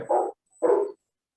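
Two short barks from a dog somewhere in the distance, each about a third of a second long and separated by a brief pause, moderately loud with a faint steady high tone running underneath.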